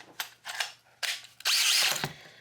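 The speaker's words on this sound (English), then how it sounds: "I like to take a drill, stick it in" A power drill whirs in several short bursts, spinning up and stopping, then one longer higher-pitched run, close by.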